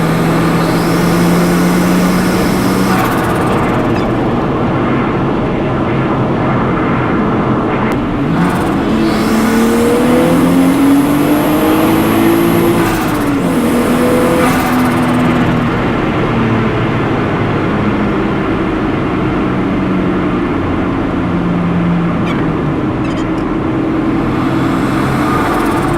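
A Nissan Skyline fitted with an HKS pod filter drives along, its engine droning loud and close with rising and falling revs and audible intake noise, steady throughout with no talking.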